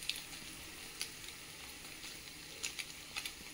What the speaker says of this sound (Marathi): त्याच्यात टाकायचा 1 चमचा तेल आणि मग कांदा टाकून द्यायचा त्याच्यात